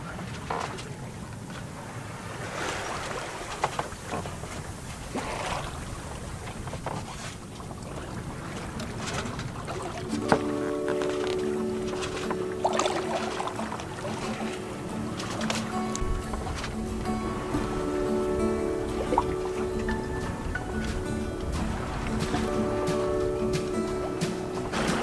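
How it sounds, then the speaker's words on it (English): A sailboat beats upwind along the Italian Riviera under sail alone, engine off, tacking repeatedly: steady wind rush and water wash against the hull, with creaks and rattling rigging and occasional thumps throughout. "rather than turn on the engine, we just stuck with it and sailed with lots of tacks involved."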